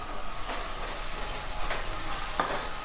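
Chopped red tomato and green chilli fry and are stirred in a pan for dhaba-style moong dal masala, giving a steady close sizzle with a few louder scraping stirs.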